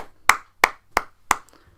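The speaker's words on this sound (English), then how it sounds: "I'm going to give you a round of applause" Four sharp hand claps in a slow, even rhythm, close and fairly loud, with silence between them.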